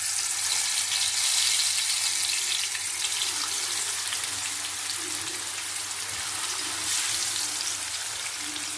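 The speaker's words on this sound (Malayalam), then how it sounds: "അപ്പോൾ നമുക്ക് മീൻ ഇതിലേക്ക് ഇട്ട് കൊടുക്കാം കേട്ടോ." Fish goes into hot oil for a fish fry and sizzles loudly and evenly close by, a continuous bright hiss with no talking.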